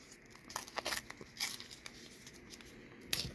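Foil wax pack of baseball cards ripped open by hand after a scissor cut, giving a few short crinkly tearing bursts close to the microphone, with no talking.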